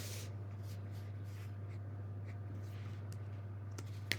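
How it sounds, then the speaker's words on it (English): Marker or pen writing an equal sign during a lesson, a few short scratchy strokes on a board, faint and close over a steady low hum, with no voice. "So I'm going to write"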